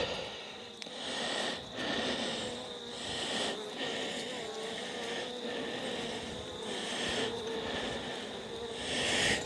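Bees buzzing around an open hive as a queen is released from her cage, a steady dense insect drone with shifting pitch, close and continuous under outdoor ambience.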